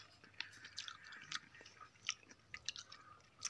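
Close, faint crunchy chewing and biting while eating a dish with a spoon, irregular small bites over several seconds with no talking.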